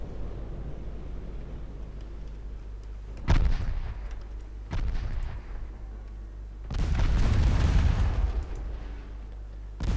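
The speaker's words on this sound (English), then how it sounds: "See main guns now on Juno." Main guns of a warship firing in a naval strategy game set in 1954, three heavy booms with long rumbling tails, loud and close over a constant low engine drone, the last blast the longest.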